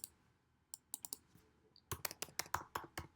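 Fingers tap out keystrokes on a computer keyboard nearby, at first a few scattered clicks, then a quick, even run of crisp key presses.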